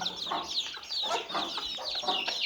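Three hens and a rooster cluck in a barnyard in close, repeated bursts of throaty, rising calls with short overlapping squawks, fairly near and with no one talking.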